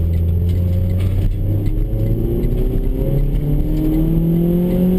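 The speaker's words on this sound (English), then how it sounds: "Now the traffic's kind of bad over here." Steady road traffic with car engines droning and rising as vehicles pass nearby, a continuous low rumble with gliding engine pitches and no talk.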